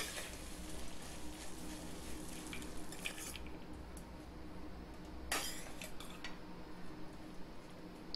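Lemon rice with fried cashews and peanuts being mixed in a pan, soft scraping and spoon clinks over a faint sizzle, with a couple of sharper metallic taps, quiet and close with no voices.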